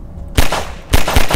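Two loud, sharp gunshots from the video game Garry's Mod crack out in sequence, each a broadband blast with a brief decaying tail, the second followed closely by a further report, with no talk over them.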